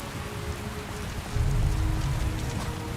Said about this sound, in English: How is it raining when it's snowy? It's sleet.